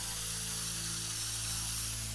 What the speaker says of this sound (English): Gonna see if I can spray can the light just in case I forget what my whole game plan is